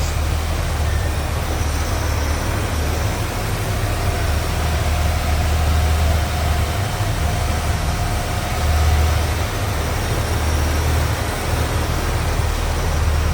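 A 1976 Dodge D100 pickup's V8 engine runs steadily nearby, a low continuous rumble with an even idle and no voices.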